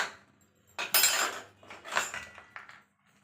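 A spoon scrapes and clinks against a pot as fried cashews and raisins are stirred into a jaggery rava laddu mixture, with several uneven bursts of metallic stirring.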